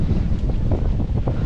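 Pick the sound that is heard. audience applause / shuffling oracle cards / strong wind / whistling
strong wind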